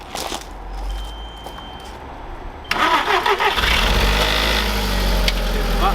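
An Audi S3 8L engine cranks and fires up after sitting unused for three years: a quiet stretch, then a sudden catch into a loud, rough idle that settles into a steady running rumble.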